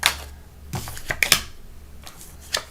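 Tarot cards being shuffled by hand, close crisp riffles and snapping flutters in several short bursts with brief pauses between them.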